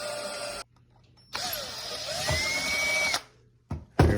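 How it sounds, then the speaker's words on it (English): A power drill whines through thick metal on a rock tumbler in two bursts, pitch rising and falling with the load, separated by a brief pause, with a short whir at the end. "drilling through thicker metal."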